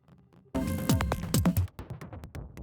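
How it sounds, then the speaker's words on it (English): Small clicky synthesizer sounds from an electronic track: a quiet murmur, then a sudden loud burst of sharp clicks and pitched blips that ripple in quick irregular bursts before thinning out. "Just little clicks."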